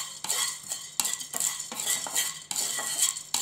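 Dry ginger roasting in a dry kadai, heard as repeated rhythmic scraping strokes of a metal spoon against the pan with dry rattling pieces, close and loud, several distinct sweeps with no voice.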